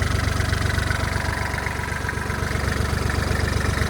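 A Kubota GL-261 mini tractor's small diesel engine idles close by with a steady, rapid chugging rumble, loud and unbroken.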